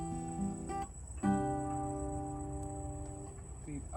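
Electric guitar playing a riff with all strings plucked together, sustained chords ringing out, a brief break and then a fresh attack near the middle, fairly quiet and alone.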